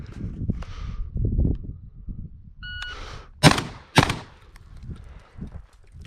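Two sharp shotgun blasts from a Beretta A300 Ultima Patrol on a practical shooting range at 10 yards, fired about half a second apart, loud and close after quieter handling noise and a short beep.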